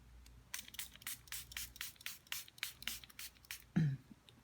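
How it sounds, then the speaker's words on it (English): A hand-pumped spray bottle mists water over opaque paints, giving a quick series of about a dozen close, crisp hissing squirts in an uneven rhythm, with a short bump of handling noise near the end. "I have a spray bottle. I'm gonna mist the others while that works"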